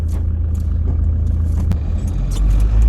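A car rolls past on the road during a test drive after brake disc and pad replacement, a loud low rumble swelling steadily, with light metallic jingles and clicks near the microphone.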